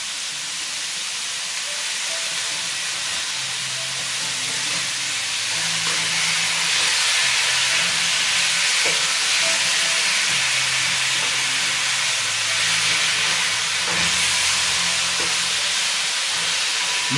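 Pork neck sizzles in a kazan over maximum heat, a steady loud frying hiss that fills the whole stretch without a break, with a faint low hum beneath it.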